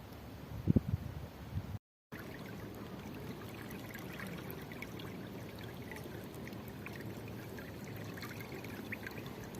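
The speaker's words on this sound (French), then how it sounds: "avec ce tout petit bruit de l'eau qui coule" Water trickles softly and continuously, a steady gentle flow heard outdoors near Carnac, France, on a freezing day, with a few faint rustles near the beginning.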